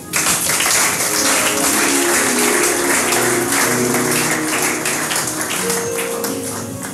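A church congregation applauds the Lord, dense sustained clapping that fills the space at full volume, with tonal voices or music faintly woven underneath.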